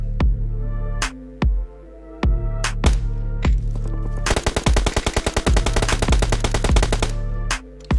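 Gunfire in the BGMI mobile battle game on the Livik map: several single heavy shots spaced apart, then a rapid machine-gun burst lasting a few seconds and more lone shots, loud and punchy.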